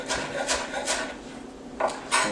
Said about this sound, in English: So finish chopping up some of these.